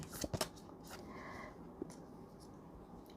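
Tarot cards shuffled by hand in a quiet room during a Thai love reading, giving a few soft riffling flutters and taps early on, then faint scattered rustles.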